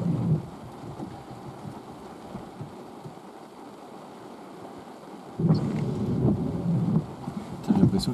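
Thunder rumbling through a summer thunderstorm, a long low roll that fades and then surges back loudly midway, with rain patter underneath and no one speaking.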